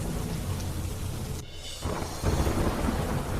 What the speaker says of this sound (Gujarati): મેઘરાજાએ ધડબડાટી બોલાવી અનેક વિસ્તારમાં ભારે પવન સાથે પડ્યો ધોધમાર વરસાદ